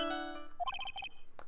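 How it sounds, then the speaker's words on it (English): A video game phone ringtone plays alone: a sustained electronic tone, then a quick run of bright chiming melodic notes, ending in a short sharp chirp. "Whose ringtone is that, guys?"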